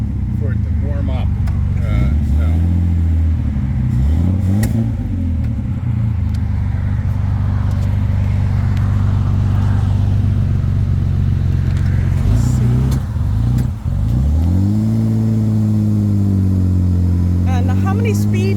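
A 1963 Austin Healey 3000 Mark II BJ7 sports car engine runs with a steady deep idle close by, rising in a few revs and easing back, while people talk over it.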